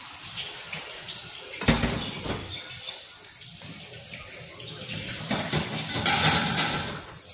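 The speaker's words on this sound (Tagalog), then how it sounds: "Ilalagay na natin ang ating chicken stock." Chicken stock poured into a pasta pan for angel hair with chicken, a steady splashing trickle of liquid that swells louder toward the end, with a clunk of cookware partway through.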